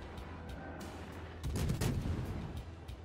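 Ship guns firing in a naval video game: a faint, muffled salvo of several deep booms clustered mid-way, over a low steady rumble with scattered distant thumps.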